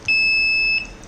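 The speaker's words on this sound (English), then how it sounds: "So if it is ready, then it will give a buzzer alert." The buzzer on an IoT railway track crack detection device gives one loud, steady electronic beep lasting under a second, then stops.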